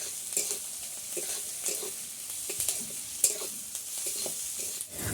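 Chopped onions and green chillies fry in a pan for a fish-head moong dal, a soft, close sizzle under repeated scraping stir strokes that come in an uneven rhythm, with no voices.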